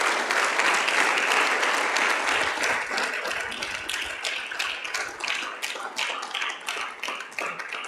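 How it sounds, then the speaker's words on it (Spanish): A church congregation claps loudly for a sustained stretch, dense clapping that thins into scattered, distinct claps toward the end. "Le damos un aplauso fuerte al Señor."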